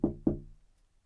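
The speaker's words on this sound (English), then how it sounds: "Just knock at the window." Two firm knocks on a window glass sound in quick succession, close and clear, each ringing briefly before fading into quiet, with no talking over them.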